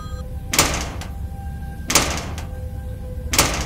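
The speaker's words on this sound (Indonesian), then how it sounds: "Suara pintu digedor, membuat saya benar-benar terbangun." Banging on a door: three heavy, loud thuds land close by at even intervals about 1.4 seconds apart, with quiet room tone between them.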